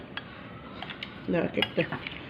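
A spoon scoops spiced chickpea mix into a bowl, giving a few soft scraping clinks of metal on the dish that grow busier toward the end, with faint background noise.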